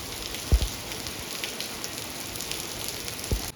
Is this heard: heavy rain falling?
yes